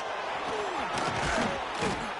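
A Nebraska Huskers college football stadium crowd roars on a third-down play in the red zone, a dense, sustained wall of cheering with a voice faintly underneath.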